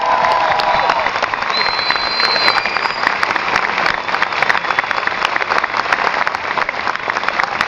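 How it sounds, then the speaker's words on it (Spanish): An audience at a convention appearance by the actor Robert Englund gives strong applause. Dense, rain-like clapping with some cheering comes in over a fading voice and goes on at full strength. "Fuerte el aplauso"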